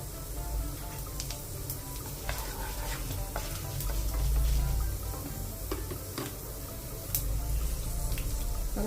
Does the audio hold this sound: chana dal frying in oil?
yes